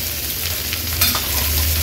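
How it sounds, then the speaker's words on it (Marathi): Steady frying sizzle of finely chopped onion in hot oil for tempering, continuous and close, with a brief stirring clatter midway and no talking. "आता आपण फोडणीला हा कांदा घालूया"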